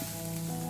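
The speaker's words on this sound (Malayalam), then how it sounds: "വറ്റൽമുളകും കറിവേപ്പിലയും കൂടെ വറുത്ത് കൊട്ടാം" Mustard seeds, dried red chillies and curry leaves sizzle in hot oil as a tempering for chutney, a short, steady crackling hiss heard close up with no talk.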